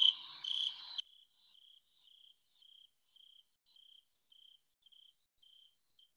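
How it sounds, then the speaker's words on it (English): Crickets chirp on a warm night, a steady series of short, evenly spaced high pulses after a brief louder burst at the start, faint and alone with no voices. "an example right up here at the top of a warmer night of what the crickets sounded like"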